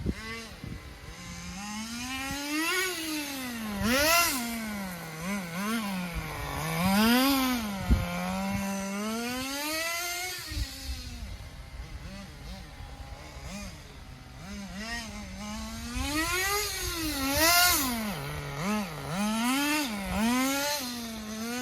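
A Thunder Tiger TS-4n nitro RC car engine revs hard at full throttle, its high buzzing whine rising and falling in repeated sweeps, loud and close, with no talking.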